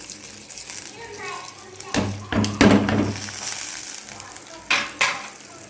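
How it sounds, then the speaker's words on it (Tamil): Chana dal, urad dal, coriander seeds, cumin and pepper fry in oil in a kadai, giving a soft sizzle with occasional stirring scrapes and clinks, while someone talks over it and a voice appears faintly. "இப்போ கடாய் வச்சுட்டு ஒரு 2 ஸ்பூன் ஆயில் போட்டிருக்கிறேன். அதில் இந்த கடலைப்பருப்பு, உளுந்தம்பருப்பு, தனியா, ஜீரகம், மிளகு எல்லாத்தையுமே போட்டுடலாம்"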